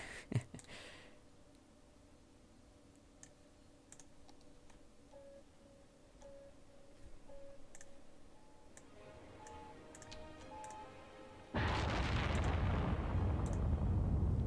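A rocket launches in the city-building game Cities: Skylines: faint ticking and low rumble at first, then a sudden loud, steady roar that takes over for the last few seconds.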